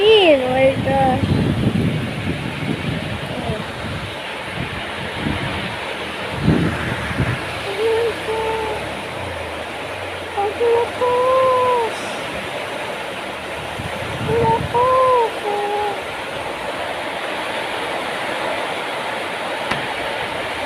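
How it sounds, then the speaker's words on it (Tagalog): Strong typhoon wind in Laguna, Philippines roars steadily throughout, with gusty rumble and broadband rushing noise, while people talk and exclaim over it. "Napakalakas ng hangin."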